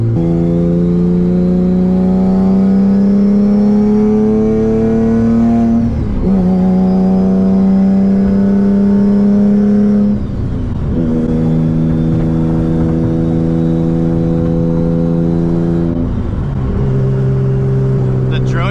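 A boosted Nissan Z engine with a Tomei exhaust on a dyno, revving hard toward 8,000 RPM in several long rising pulls, each dropping off and climbing again, very loud and close, with no talk.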